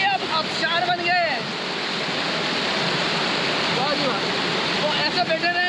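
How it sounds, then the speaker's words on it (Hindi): Heavy water cascades down like a waterfall in Karachi under light rain, a loud, continuous rushing roar close by, with voices briefly audible over it. "इतना पानी आ गया कि हमारे लिए अब आबशार बन गए।"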